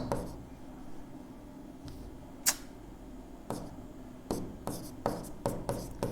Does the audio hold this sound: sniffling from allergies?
no